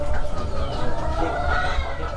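Filipino chickens on a poultry farm cluck and crow together in a loud, dense, overlapping chorus that runs without pause, with no one speaking.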